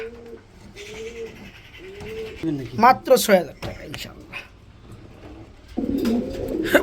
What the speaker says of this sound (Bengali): প্রতিটা কবুতরে বন্ধুরা চরম পরিমাণে অ্যাক্টিভ।